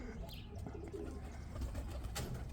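Pigeon cocks coo softly at moderate distance, a few low rolling calls over a quiet outdoor backdrop with faint chirps and light rustling.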